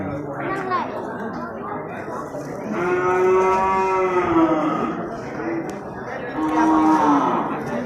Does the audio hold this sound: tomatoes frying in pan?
no